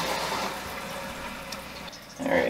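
Water rushes steadily through a newly installed Fluidmaster 400A toilet fill valve as the tank refills, a close hissing flow that dips briefly then surges louder near the end, no talking.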